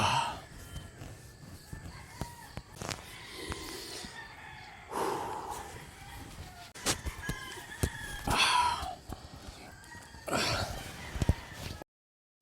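Bird calls ring out in short bursts over an open outdoor campsite on Mt. Parawagan, with some broadband rustle and thumps between them.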